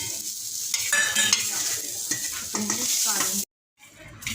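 Peanuts roasting in hot oil in a kadhai, sizzling with frequent stirring and scraping, close and fairly loud, cutting off briefly to silence near the end before resuming.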